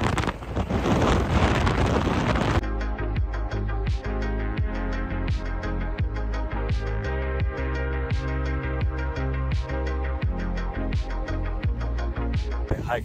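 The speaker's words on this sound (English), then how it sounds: "it is so windy" Strong wind gusts in the open air on a March hike in the Faroe Islands, roaring and buffeting loudly against the microphone, heaviest at the start and then continuing as rough, pulsing rumble throughout.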